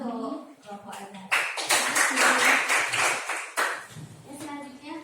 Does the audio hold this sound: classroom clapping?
yes